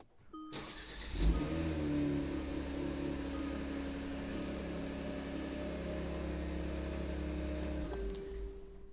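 A Kia Stinger engine starts with a push of the stop-start button, a brief crank settling into a steady, smooth idle that runs close and alone before cutting off near the end.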